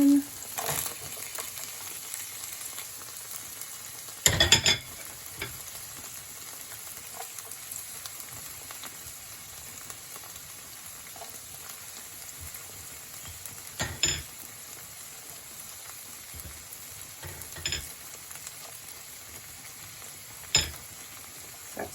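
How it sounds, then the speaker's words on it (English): Broccoli and red onion fry in a pan with a faint, continuous sizzle, broken by a few sharp clinks and scrapes of a utensil against the pan, quiet and close. "So the broccoli and the red onion are cooking"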